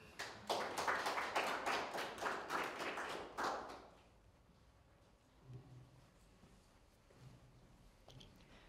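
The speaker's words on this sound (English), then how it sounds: "Please, a round of applause." An audience at a space science symposium gives brief applause, a burst of scattered claps that fades out after a few seconds, leaving quiet room noise with a few soft thumps.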